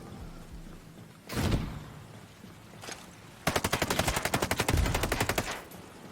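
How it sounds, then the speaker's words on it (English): Gunfire in a loot shooter video game: a single heavy blast, a fainter lone shot, then a long rapid burst of evenly spaced shots, loud and close with no talk over it. "He saw me. And he's shooting at me."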